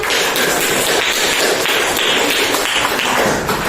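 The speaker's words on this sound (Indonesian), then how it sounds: "Oke, kita beri tepuk tangan." A room full of people clapping after a classroom group presentation, a loud, dense and continuous patter of hands with no talking over it.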